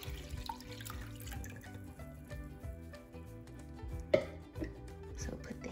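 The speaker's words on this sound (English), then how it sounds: "I'm going to pour 5 cups of water into the saucepan." Water poured into a saucepan in a home kitchen, a soft continuous trickling and dripping at close range, quiet overall with one sharper clink partway through.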